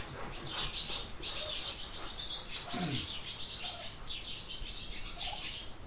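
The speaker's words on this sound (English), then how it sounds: "Barn swallows, house sparrows, rock pigeons." Small birds chirp and twitter almost continuously inside a barn, a busy mix of barn swallow and house sparrow calls, with a brief low cooing note from a rock pigeon in the middle.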